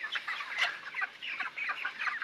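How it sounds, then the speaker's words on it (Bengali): A flock of chickens on a poultry farm with many roosters clucks and chatters continuously, with overlapping close calls and no talking. "তো দেখেন মুরগি সব আমার কাছে,"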